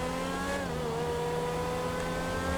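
A Grotti X80 sports car engine in GTA 5 Online revs at a high pitch, holding a steady, droning whine that rises slightly, loud and continuous.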